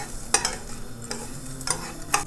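Pasta stirred in a pan as it toasts golden, a steady low sizzle broken by four or five sharp scraping strokes of the spoon at irregular intervals, close up, with no voices.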